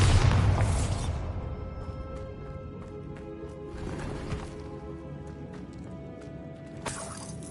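Bombarda explosion spell cast in the video game Hogwarts Legacy, a loud burst at the start that decays into a rumbling tail, followed by fainter scattered thuds and another sharp hit near the end.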